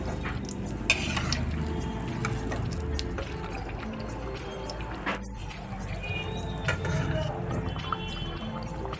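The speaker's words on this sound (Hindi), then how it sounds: "ऊपर जब तलेंगे तब हम इसको पलटाएंगे" Malpua batter frying in hot oil gives a continuous soft sizzle and bubbling, with occasional light clinks of a utensil, steady and close throughout.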